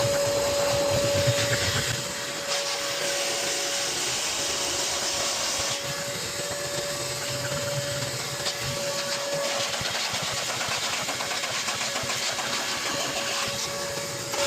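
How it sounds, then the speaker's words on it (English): A vacuum cleaner hoovers a dirty car interior during detailing, a steady close whine and drone with slight shifts in pitch and load as the nozzle moves around. "we've only done a bit of hoovering"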